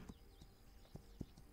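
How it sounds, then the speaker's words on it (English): Hooves of a horse in the video game This Land Is My Land clop faintly and unevenly, a few soft distant thuds over a quiet ambient bed with a thin steady tone. "Just a horse."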